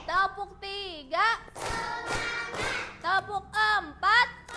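Schoolchildren in a classroom clap their hands during a counting game, a cluster of sharp claps and thuds sandwiched between bursts of children's excited shouting.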